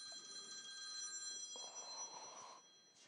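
A mobile phone rings with an incoming call, a steady electronic ringtone of sustained tones running throughout, fairly faint and alone, with a brighter burst partway through.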